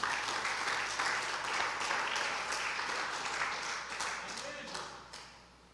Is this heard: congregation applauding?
yes